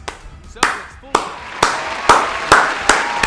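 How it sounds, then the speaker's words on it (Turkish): Seven loud, close hand claps from one person, spaced at a slow, regular beat with a slight ring after each; no speech is heard. "Yeter bu kadar alkış."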